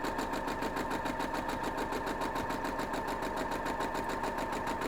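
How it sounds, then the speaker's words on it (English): A sewing machine stitches quilt squares together in a rapid, even mechanical chatter that stays steady and close for the whole stretch, with no talk. "I am actually going to just grab that square and sew it together"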